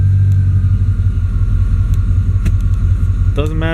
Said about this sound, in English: Look, it's lugging the engine.